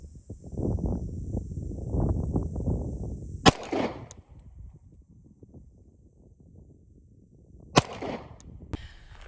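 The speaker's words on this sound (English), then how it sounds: "Just going straight, 4 rounds of live fire for the qual." Live pistol fire during a qualification drill, with two loud, sharp shots spaced several seconds apart, each followed by brief echoes and small clicks, after a stretch of low rustling and handling noise.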